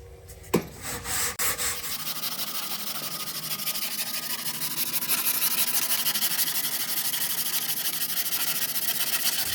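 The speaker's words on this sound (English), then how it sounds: "80 grit on the longer block again so that we can kind of follow this body line" A long sanding block with 80 grit paper rubs over body filler on a Nissan S13's panel, producing a continuous close harsh scraping hiss that steadies into an even rhythmic rasp.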